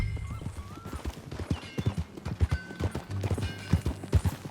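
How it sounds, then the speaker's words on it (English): Horse hooves clip-clop in a steady riding rhythm in the Red Dead Redemption 2 video game, with occasional snorts and game ambience beneath, no voices. "That new horse?"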